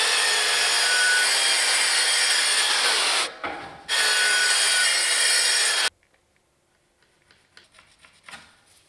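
A hand saw cuts through a dry screed floor board in steady, loud back-and-forth strokes, pausing briefly partway, then stopping; faint handling noises follow in near silence.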